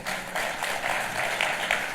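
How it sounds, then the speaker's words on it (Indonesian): Church congregation applauding during a worship service, a steady wash of clapping from a crowd that holds at an even level for the whole stretch. "Boleh gak tepuk tangannya yang paling meriah"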